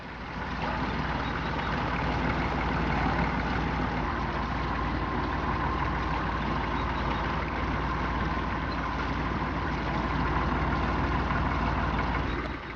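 A narrowboat's diesel engine drones on without a break, a steady, low, constant rumbling throb at close range with no voices.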